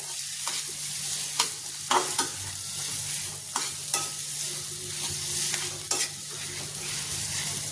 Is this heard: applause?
no